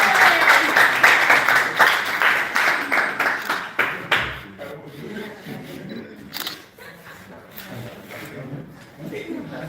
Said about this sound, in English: Clap for him again